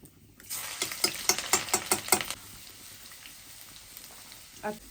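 Hot oil crackles with a burst of sharp sizzling pops as whole garlic cloves drop into the pan after mustard seeds, settling into a quieter hiss.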